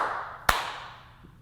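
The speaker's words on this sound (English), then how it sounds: "make my clapping sound" A single sharp hand clap in a room under construction, followed by a long decaying echo that fades out over about a second.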